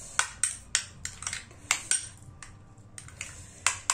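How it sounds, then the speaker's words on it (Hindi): A spoon clinks and scrapes in a bowl while mashed suran (elephant foot yam) chokha is mixed, giving a quick, uneven run of sharp, close taps with no talking. "थोड़ा सा और अच्छे से मिक्स कर लेते हैं।"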